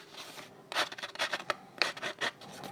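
Scissor blades scraping across paper to distress it for a vintage look, a series of close, rhythmic rasping scratches with brief pauses between strokes.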